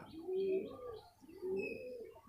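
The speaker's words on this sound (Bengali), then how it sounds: "এই কবুতরটা বাড়িতে" A pigeon coos twice up close, two soft, throaty rolling calls with a short pause between them in a quiet room.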